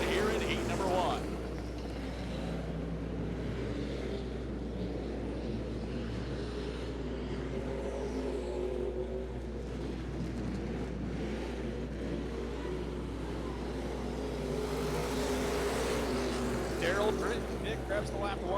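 Hornet class race cars run at Jacksonville Speedway, their engines droning and revving steadily in the distance under a public-address announcer's voice, with a rising pass of engine noise near the end.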